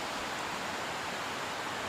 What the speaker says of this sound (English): Follows along this river here.